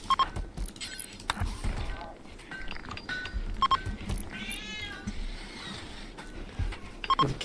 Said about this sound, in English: The cat is there.